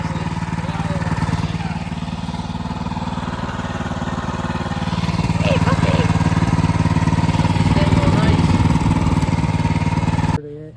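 A newly rebuilt motorcycle engine runs steadily during break-in, a continuous loud nearby idle that swells a little louder midway and then cuts off abruptly near the end.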